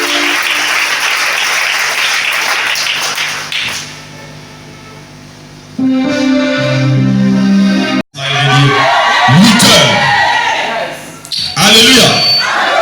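A church congregation cheers and applauds loudly in a dense wash of crowd noise for several seconds, then music and raised voices take over, with shouting and talking continuing near the end.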